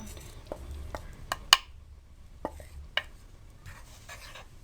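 A spoon stirs besan (gram flour) in ghee in a pan for besan halwa, giving scattered sharp metallic taps and scrapes against the pan over a faint low sizzle, close and fairly quiet.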